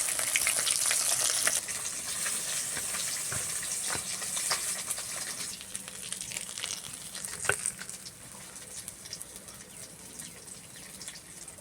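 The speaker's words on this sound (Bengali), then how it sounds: "বাকি মাছগুলো ভেজে নেব।" Pieces of roopchand fish (pomfret) fry in hot oil in a curry pan with a loud, steady sizzle that eases slightly after the first seconds, with scattered sharp crackles and pops throughout.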